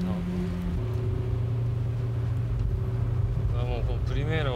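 A Nissan Primera front-wheel-drive car being driven, with a steady engine drone and low rumble throughout, the pitch shifting as it moves, while voices talk over it.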